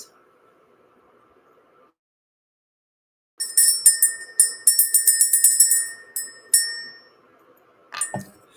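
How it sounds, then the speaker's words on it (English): A small bell is rung to clear the energy, a rapid run of bright metallic rings and jingles over a few seconds, followed by a single ring and a last brief rattle after a quiet start. "We're going to ring the bell."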